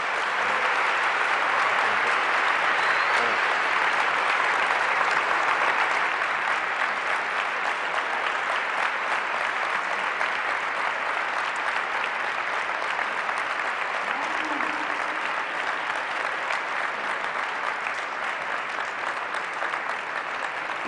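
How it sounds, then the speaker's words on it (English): Audience at an academic event on Brazilian governance applauds a guest with sustained, even clapping from a large crowd that stays strong for about twenty seconds without fading much. "and a round of applause for our guest."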